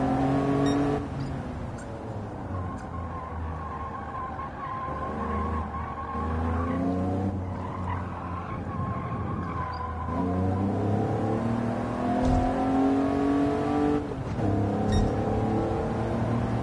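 A car engine in Gran Turismo 7 drives steadily, revving up and down through gear changes with harmonic engine tones, occasional tire squeal and skidding, continuous and fairly loud throughout.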